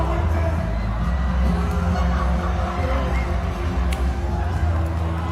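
A large crowd at a fight roars steadily, a dense continuous wash of cheering and shouting with a low rumbling undertone, loud and unbroken throughout.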